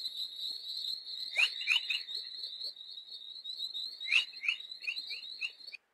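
Chorus plasma waves recorded by the Cluster 1 satellite: rising chirps and whistling tones repeat over a steady high hiss, like birdsong or insects, in irregular bursts with no voices.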